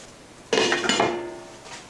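A metal lid set down onto a pot of Mexican rice simmering over a very low flame, one sharp clanking contact followed by a short ringing rattle, close and alone.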